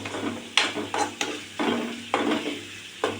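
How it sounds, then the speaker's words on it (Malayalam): Small shallots, cumin seeds and curry leaves frying in hot oil, a steady close sizzle broken by a few rhythmic scrapes of a spoon stirring the pan. "ചെറിയ ഉള്ളി പിന്നെ എണ്ണ ജീരകം പിന്നെ കറിയപ്പല എല്ലാം കൂടിയിട്ട് മൂപ്പിക്കണം"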